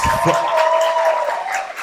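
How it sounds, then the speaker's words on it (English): Audience at a launch event applauding a singer's welcome, a moderately loud wash of clapping with a few cheers, steady then easing slightly toward the end. "Can I get a louder applause?"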